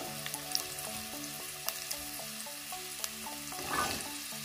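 Carrots, potatoes and radish fry together in oil for a bottle gourd leaf and stem curry, giving a dense, steady sizzle with light scattered clicks and a louder stirring swell near the end.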